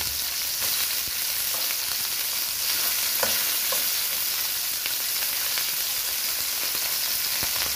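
Onion and garlic frying in a pan, giving a steady, close sizzle with occasional clicks and scrapes of stirring throughout. No one speaks.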